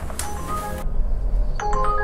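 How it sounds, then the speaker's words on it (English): A smartphone rings with a delivery app request during food delivery work in Tokyo. Short electronic tones repeat close by, with a quiet pause between bursts and some background hum. "Can't see the request, it's just ringing."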